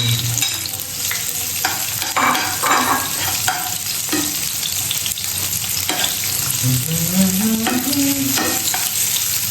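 Onion and garlic sauté in a hot pan, a steady close sizzle broken by repeated scraping stirs, with no talking.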